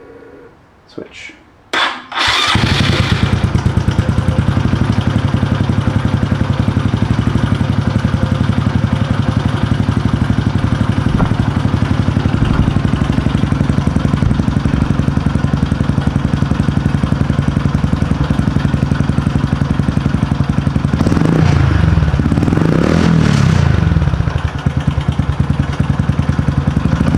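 A 2021 Honda Super Cub fitted with a Yoshimura GP Magnum exhaust starts up after a brief click and settles into a steady, close, loud idle that runs unbroken for about 25 seconds, with a short blip of revs near the end.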